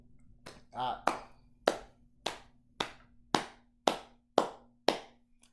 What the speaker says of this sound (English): I'm a clap for you, man.